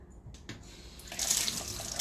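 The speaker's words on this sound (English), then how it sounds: "I'm going to add just some water" Water poured from a container onto raw fenugreek sprouts in a sprouting jar or tray, a soft splashing trickle that swells after a couple of faint taps and runs steadily to the end, close and moderately loud.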